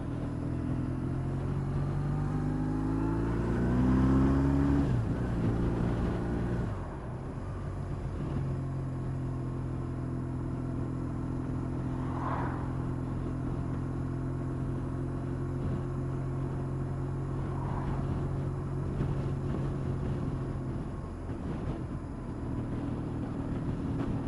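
A BMW R1150GS motorcycle being ridden, its engine droning with rising and falling tones as gears change early on, then a steady mid-speed hum under road and wind rumble.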